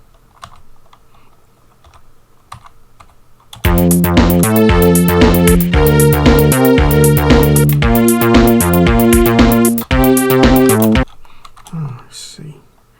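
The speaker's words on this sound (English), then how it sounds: "So it's either some freestyling on that string sound" Amiga-style string patch played in the Renoise tracker, a loud run of sustained, stepping synthetic string notes that starts abruptly, holds a steady sequence for about seven seconds, then cuts off to near quiet.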